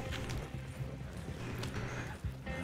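Horse hooves clip-clop steadily in the video game RedM, a busy rhythmic patter of hoofbeats over a dense, noisy background, moderately loud and with no talking.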